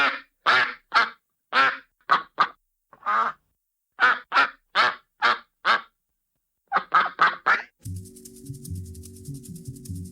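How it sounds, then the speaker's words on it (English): Various ducks give around fifteen loud, close quacks in uneven bursts with short gaps, followed at the end by a different, steadier electronic-sounding tone. "You are going to hear a clip of various ducks quacking."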